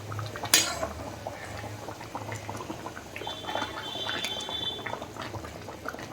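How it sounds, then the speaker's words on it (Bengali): Hilsa fish curry with eggplant simmers in a pan, giving a soft, steady bubbling and sizzle, with a sharp metallic clink near the start. "এবার ভালো করে ফুটে আসছে।"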